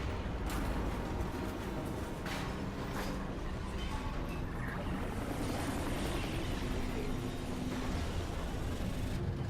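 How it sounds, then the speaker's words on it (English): A helicopter in the Metal Gear video game lifts away while the surrounding base explodes, giving a loud, steady broadband roar and rumble that holds for the whole stretch with no clear gaps. "That's Big Boss and Miller getting away in a helicopter as I'm sitting in the middle of Mother Base exploding."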